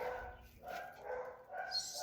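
Dogs bark a few times in quick, close bursts, short and moderately loud, with some whining tones between the barks.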